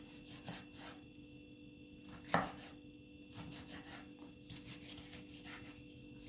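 Repeated knife chops through unpeeled zucchini against a cutting board, with one sharp louder strike in the middle, close and dry with light rustling between cuts.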